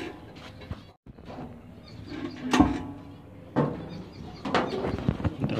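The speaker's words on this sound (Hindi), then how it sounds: "दरवाजा लगा," Several knocks and clatters of a door being shut and handled at home ring out at close range, with quieter shuffling and small bumps between them.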